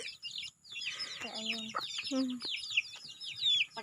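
Chickens cluck and chirp close by in a rural yard, with short squawks and a few low calls mixed with bright chirping, while a person says a few words.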